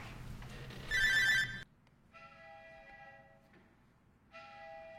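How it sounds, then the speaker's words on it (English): A mobile phone rings with a bright electronic ringtone in two separated bursts, the second starting near the end, following a brief louder tonal blare, with quiet room ambience between and no talking. "Oh, my phone."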